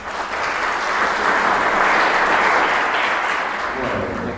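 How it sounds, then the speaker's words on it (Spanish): A loud, full round of applause from an audience at a school talk on the Malvinas war welcomes Guillermo Batista, swelling steadily across several seconds before beginning to taper. "Un aplauso."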